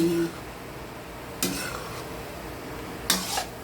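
Pansit bihon noodles cooking in a pan, with faint sizzling and two brief metallic clatters of a utensil against the pan and a short voice at the start.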